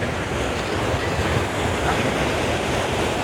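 Sea waves wash in on the beach at Puri under a cloudy sky, a continuous broad roar of surf with wind buffeting the microphone, loud and steady with no voices.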